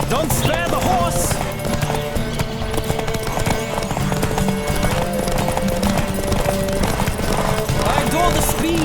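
Galloping horses pound out a steady, rapid clip-clop of hooves during a race in The Witcher 3, with background game sound and voices mixed in throughout.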